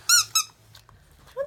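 Squeaky Wobbles dog toy squeaking in two short, bright squeaks close up, then a quieter stretch with faint rustles and a final rising squeak at the end.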